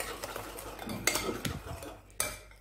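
Butter, eggs and sugar being mixed in a bowl with a hand whisk, giving scraping, clinking strokes against the bowl with a couple of sharper knocks, close and fairly loud.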